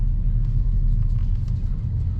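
A 2022 Honda Civic Si accelerating in second gear, heard as a deep, steady engine rumble that holds at a constant loudness the whole time.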